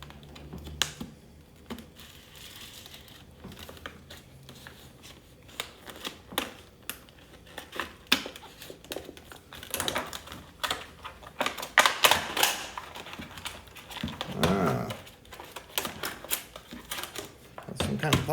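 A Gamo P-27 semi-automatic, dual-ammo CO2 air pistol is unboxed, with crisp crinkling, tapping and snapping of packaging and a plastic retaining strap. The sharp clicks come irregularly and grow busier and louder toward the end.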